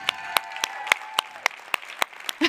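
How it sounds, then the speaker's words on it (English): A light round of applause for app competition finalists at a tech conference event, sounding as distinct, fairly sparse claps over a faint sustained tone, ending with a brief burst of louder noise. "One last round of applause for all of our finalists who just nailed it tonight."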